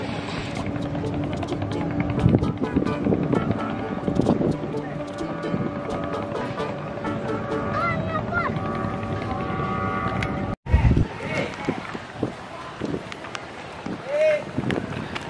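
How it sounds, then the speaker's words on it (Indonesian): Speedboat ride to Kemaro Island, Palembang, with a steady loud motor drone and rushing water and wind throughout, briefly cut off midway, while people talk over it. "Speedboat."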